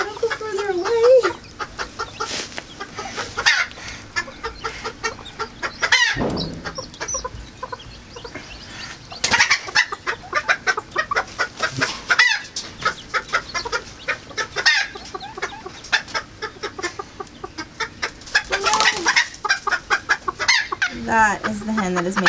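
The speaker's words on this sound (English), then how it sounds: "That is the hen that is making all this fuss." A hen clucks and fusses loudly and continuously up close, disturbed while trying to lay an egg in a cramped spot, with sharp, agitated cackles in an uneven rhythm throughout.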